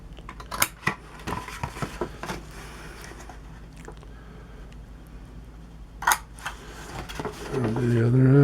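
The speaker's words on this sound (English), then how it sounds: "all these tabs, I need to cut in 3/4 of an inch so that these will fold over" Scissors snipping tabs into cardboard for a homemade box, a handful of sharp close cuts and rustles spaced apart, with a voice rising at the end.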